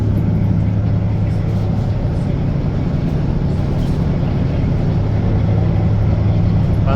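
Steady engine drone and road rumble from inside a nearly empty Karwa bus travelling a desert road from Doha toward the Saudi border, a constant low hum without break from start to end.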